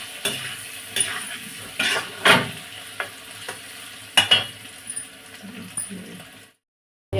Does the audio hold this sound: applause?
no